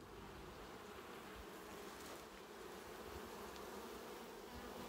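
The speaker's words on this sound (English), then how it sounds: "Very full of bees." Honeybees swarm around an open poly hive packed with bees, a dense continuous buzzing drone, close and steady throughout, with no talking.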